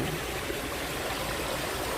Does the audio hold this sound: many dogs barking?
no